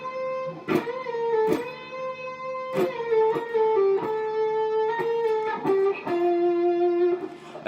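Electric guitar plays a lick from a guitar solo, sustained notes with bends and slides and a few sharp picked attacks, loud and alone in the clip.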